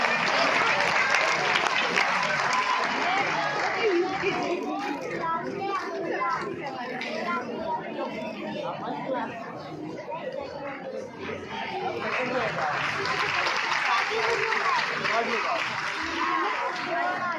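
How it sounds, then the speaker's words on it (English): Parents and children at a school annual day clapping for award winners, a broad crowd applause mixed with lively chatter and children's voices, dipping in the middle before swelling again. "Clapping everyone, clapping."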